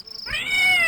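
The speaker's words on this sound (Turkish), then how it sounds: "burada bir tane kedi var" A cat meows once inside a video game, a short rising cry that starts after a brief moment of quiet and carries clearly over faint game background sound.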